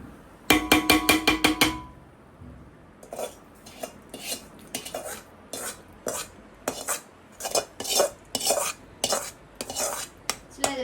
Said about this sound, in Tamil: தாளிச்சதை எடுத்து ஊத்த போறாங்க